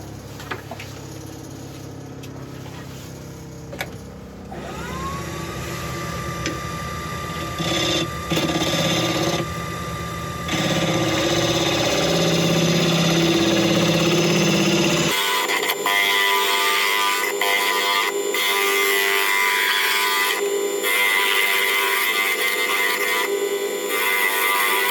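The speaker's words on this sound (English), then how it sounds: "now with a little old spindle gouge, I'm just going to take it on here and just round those edges in" A spindle gouge rounds over the edges of a small wooden Christmas tree spinning on a lathe: a steady scraping, rasping cut over the motor's hum, growing louder and harsher partway through, with no talking.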